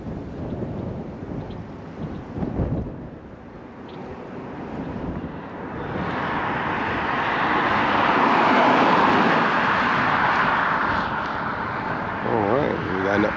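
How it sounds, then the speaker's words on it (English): A real car approaches and passes close by, its rushing noise swelling steadily then easing off, over gusty wind and a few spoken words, during an outdoor run of an Arrma Vendetta RC car. "Let that car pass first."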